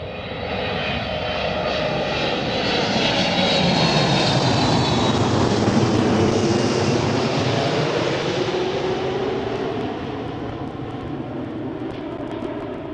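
A jet airliner landing in a strong crosswind at Schiphol airport, Amsterdam, its steady engine roar loud and close, swelling to a peak mid-pass then easing off slightly, heard alone without talk.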